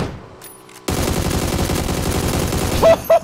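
Rapid automatic fire from an AUG rifle in PUBG on the Miramar map, loud, dense bursts of shots starting abruptly after a quiet moment and continuing to the end, with a brief tone cutting in near the finish.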